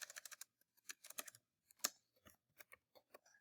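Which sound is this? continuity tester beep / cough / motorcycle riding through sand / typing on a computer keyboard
typing on a computer keyboard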